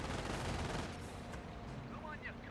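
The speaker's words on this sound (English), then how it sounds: "Inside the shrine, there's now MG42 to provide some holiness." MG42 machine gun fire rattles in a Company of Heroes battle, a dense loud burst of rapid shots filling the first second, then thinning into distant gunfire while a commentator talks over it.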